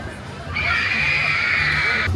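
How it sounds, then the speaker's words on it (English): A crowd of riders on the Dragon Swing at Knott's Berry Farm lets out a sustained high-pitched scream that starts suddenly and holds for about a second and a half amid background chatter. "We're having a screaming competition on the Dragon Swing right now."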